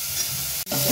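Onion and masala roast in a hot pan with a dense, close sizzling hiss that briefly dips, as if stirred, then swells back loudly within a single second.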